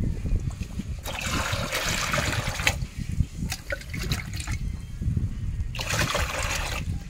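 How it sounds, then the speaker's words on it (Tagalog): Water poured into a container holding 15-day-old juvenile prawns, the splashing and trickling arriving in a few bursts over a low rumbling background. "Lagyan pa ho natin ng tubig."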